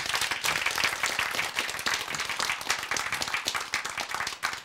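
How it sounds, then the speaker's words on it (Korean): Church or lecture audience applauding a physician husband who works at a hospital in Wontong, a dense, steady wash of many hands clapping at close range for several seconds. "박수로 보내주세요"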